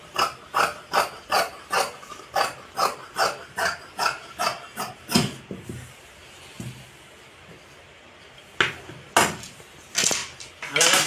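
Scissors snip through fabric while a churidar pant is cut at a tailoring school: about a dozen crisp, evenly spaced snips close up, then a pause with faint rustling, and a few more sharp cuts.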